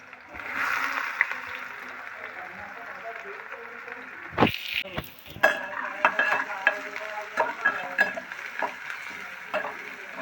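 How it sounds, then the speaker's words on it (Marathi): Onion and dried shrimp (sukat) frying in oil for a shevla vegetable dish, a steady crackling sizzle with sharp clatters of a spoon stirring against the pan partway through. "इकडे आपण कांदा चांगला भाजून घेऊया तेलामध्ये"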